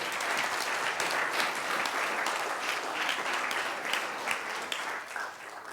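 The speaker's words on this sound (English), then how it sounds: "Well, a round of applause for that catch." An audience at a university inaugural lecture breaks into sustained applause, dense steady clapping from many hands filling the hall evenly and at moderate distance for several seconds.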